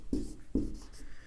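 Chalk or a marker writes on a classroom board: two distinct scratchy strokes about half a second apart, close and fairly soft, followed by a fainter third stroke.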